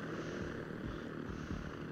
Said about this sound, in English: Look how funny that helicopter looked.